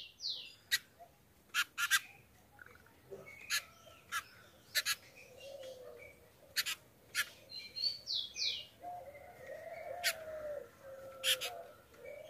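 A female rufous-collared sparrow in a cage gives sharp, repeated chirps and short calls at irregular intervals, close and fairly clear over a quiet background.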